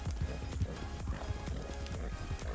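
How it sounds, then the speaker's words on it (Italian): A Fox Trotter horse gallops in Red Dead Redemption 2, its hooves beating a steady, rapid clip-clop close and loud across the whole stretch, with no other sound over it. "è partito di velocità il cavallo"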